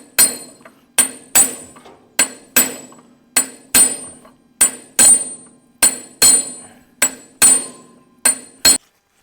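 Steady hammer blows strike a stuck bolt during a teardown near a carburetor, around fifteen sharp metallic clanks in an uneven rhythm, loud and close with brief ringing after each hit.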